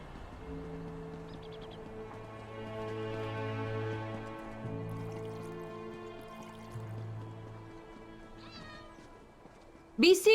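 Cats meow in the fantasy game Elder Scrolls Online, several long tonal cries drawn out one after another at moderate loudness over game ambience, ending in a brief louder burst.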